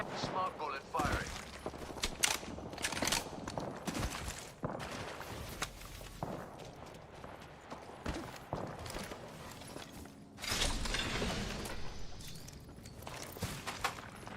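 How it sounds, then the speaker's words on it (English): Smart bullet fire in Apex Legends comes as repeated bursts of sharp, rapid shots mixed with footsteps and mechanical clatter, loud at moments and rising again near the end. "Smart bullet firing."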